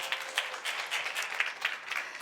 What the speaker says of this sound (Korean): 박수 쳐줘, 박수.